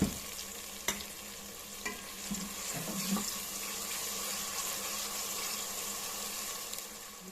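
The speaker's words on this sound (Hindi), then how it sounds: "अब इसमें हम लहसुन अदरक का पेस्ट डालेंगे।" Ginger garlic paste frying with golden-brown onions in a pan for a moringa chicken dish: a continuous close sizzle with a few soft scraping and clicking stirs.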